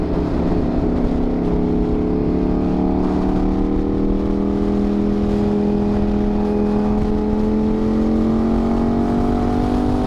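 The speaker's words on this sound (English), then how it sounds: "I was trying to catch that bike, but it's going a different direction" A motorcycle engine drones steadily for ten seconds, loud and close, its tone gliding slowly as it passes on a gloomy day with no talk over it.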